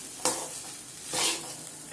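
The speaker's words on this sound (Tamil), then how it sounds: "நல்லா கிளறி விட்டுட்டோன்னா முட்டை சாதம் தயாராகிடுச்சு" Egg fried rice being stirred in a hot pan, two scraping sweeps of a spatula through the rice over a soft continuous sizzle, close up with no voices.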